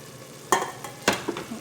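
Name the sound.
stirring chicken sotanghon guisado in a pan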